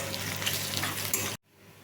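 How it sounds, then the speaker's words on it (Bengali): Onions frying hard in a pan, a dense close sizzle with stirring scrapes that cuts off abruptly near the end, leaving a low quiet hum. "পেঁয়াজটা ভাজা হয়ে গেছে"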